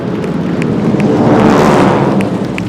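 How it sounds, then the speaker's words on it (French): Military aircraft pass overhead during the 14 July Bastille Day ceremony in Dourdan, France. A loud, broad jet roar swells to a peak mid-pass and then eases, over faint crowd noise. "levez les yeux au ciel, le premier passage des avions"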